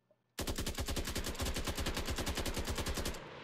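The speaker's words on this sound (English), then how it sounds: "We're gonna take our assault rifle." Assault rifle in an Unreal Engine 5 first-person game firing one rapid full-auto burst of about thirty sharp, evenly spaced shots with shell ejection, loud and close, cutting off abruptly into a short tail.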